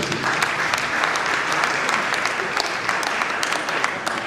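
Dense, sustained applause from a large audience welcoming a life bencher at a Nigerian Bar Association law week event, steady and loud throughout with no speech.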